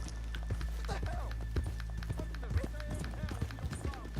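Horse hooves clip-clop in an irregular rhythm over a steady low hum in Red Dead Redemption 2, mixed with faint background voices and game ambience.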